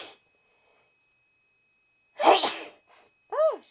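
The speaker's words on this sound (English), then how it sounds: "And I'm gonna sneeze." A woman gives a single close, sharp sneeze in a quiet room after a brief intake of breath, followed by a short vocal sound.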